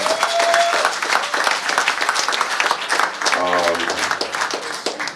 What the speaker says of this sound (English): round of applause for these two, for sure